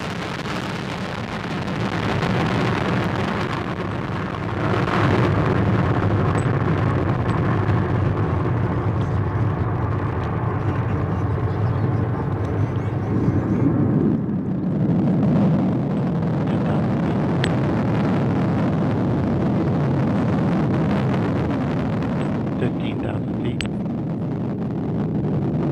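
Minotaur rocket carrying the AA-2 launch abort system lifting off, a loud continuous broadband roar that swells after a few seconds and rumbles steadily throughout, with a faint voice calling out in the background.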